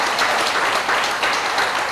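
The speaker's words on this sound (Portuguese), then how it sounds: "Dê uma salva de palmas ao Senhor." Applause in a church service after a call to clap for the Lord, steady broadband clapping filling the full two seconds at close range, no talk over it.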